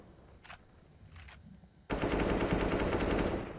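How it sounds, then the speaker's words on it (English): AK-47 fire in the Counter-Strike video game: after a quiet stretch with a few faint distant pops, a loud sustained automatic burst erupts close by and rattles on for nearly two seconds. "Dupree does go down to another AK-47 headshot."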